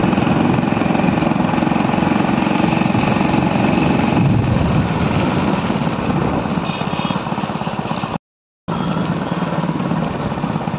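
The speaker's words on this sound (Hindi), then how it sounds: "अभी जा रहे हैं बाइक से घर जा रहे हैं अभी।" A motorbike rides along a village road, its engine droning loudly and steadily up close with a wind-buffeted rumble, holding through the ride apart from a brief drop to silence near the end.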